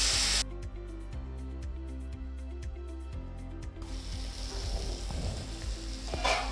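Spinach greens sizzling as they sauté in a pan, a soft hiss and crackle rising after an electronic hum and tone in the first few seconds, with a brief louder burst at the end.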